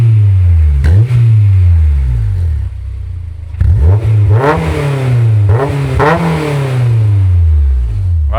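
A Honda S2000 engine revs hard several times, rising and falling in pitch, loud and close, with a brief idle lull in the middle.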